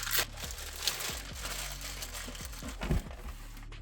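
Packaging for a 64GB Steam Deck handheld being pulled and ripped open, quiet close crinkling and crunching with a few sharper tearing bursts, no talking.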